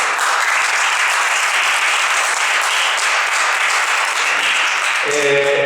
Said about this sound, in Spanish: por el cual pido un aplauso